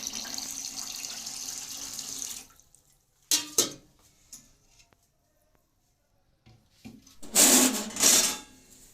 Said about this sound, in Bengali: আর দিয়ে দেবো জল, জল না দিলে বড়ার ভেতরে ঢুকবে না।